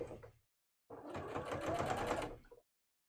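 A sewing machine stitches a cosplay costume piece in one steady, dense run of rapid needle strokes lasting under two seconds, close and clear, after a short lead-in sound and a silent gap.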